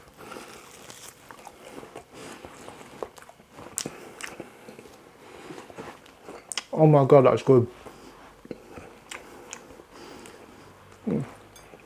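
One loud crunchy bite into crisp fried boneless pork spare ribs, close to the mic, amid quiet chewing sounds, with a person speaking briefly.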